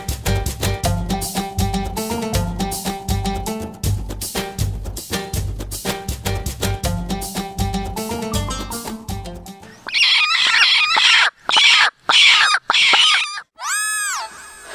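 A native country chicken clucks and crows loudly and close by in several sharp bursts, after about ten seconds of rhythmic music, in a comedy short film.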